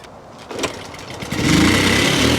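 A Honda Cub C90 motorcycle engine catches after a brief cranking stutter, then settles into a loud, steady rev up close with no talking.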